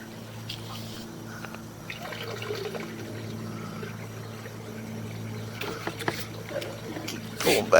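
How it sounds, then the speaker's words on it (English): A toilet flushes and water drains through a 4-inch cast iron sewer line, a faint, continuous rushing and trickling with a low hum beneath, swelling into louder gurgles at the end. "Oh, she's flushing again."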